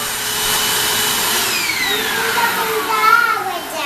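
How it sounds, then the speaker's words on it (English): A vacuum cleaner running on a couch at home, a loud continuous whine with a shifting pitch as the nozzle moves over the cushions, no pause throughout. "Are you done vacuuming the couch?"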